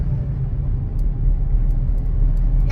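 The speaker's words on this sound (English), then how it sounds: "with your loud exhaust weaving in and out of the traffic" Steady low engine rumble of scooters with loud exhausts weaving through city traffic in the Philippines, a continuous droning roar close by with no one speaking.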